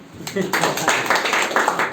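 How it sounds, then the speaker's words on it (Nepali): An audience claps for a speaker at a leadership training session, a dense burst of applause building quickly and continuing steadily, heard close with some talk underneath. "बोलिसक्नु उहाँलाई ताली बजाउँदै"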